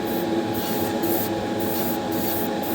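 Aerosol paint hisses steadily and close-up onto a Hot Wheels die-cast car, one continuous spray lasting a few seconds with faint pulsing.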